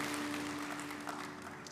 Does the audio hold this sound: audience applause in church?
yes